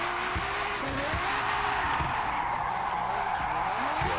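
Lamborghini Murciélago drifting in a racing video game, a steady engine drone with sliding tire noise and gear-shift pitch sweeps running continuously at a fairly even level.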